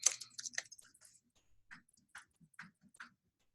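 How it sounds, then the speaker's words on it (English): Keys on a computer keyboard are tapped, a quick cluster of clicks at first and then a few sparser, evenly spaced taps, all fairly quiet and close. "I'm going to just keep typing just so I can show you something."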